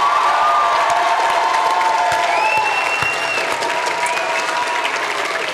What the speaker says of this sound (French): vous pouvez applaudir bien fort nos 10 orateurs et oratrices de la soirée.